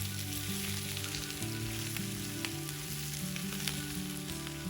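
Chicken fry with curry leaves sizzles steadily in a pan, a dense continuous hiss with faint scattered crackles and light stirring, close and loud with no talk.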